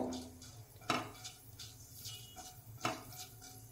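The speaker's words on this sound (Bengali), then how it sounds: "মেথি দানাটা হালকা নাড়াচাড়া করে নেব।" Fenugreek seeds being stirred in hot mustard oil in a kadai, heard as a faint background sizzle with two sharp scrapes or clinks of the utensil against the pan, close by and without talk.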